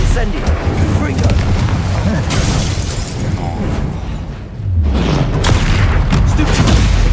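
Spell explosions from the Hogwarts Legacy video game, with booming blasts and crackling bursts firing almost continuously, loud and dense, dipping briefly near the middle before resuming at full force.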